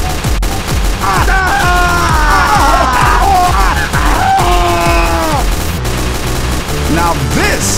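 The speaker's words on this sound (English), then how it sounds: "Now this is a big-ass machine gun." Heavy, continuous machine gun fire in the Left 4 Dead video game, dense rapid bursts mixed with in-game shouts and groans, loud and unbroken throughout.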